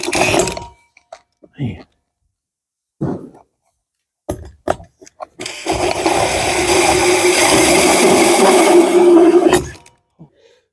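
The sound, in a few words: cordless drill gun clutch grabbing and kicking out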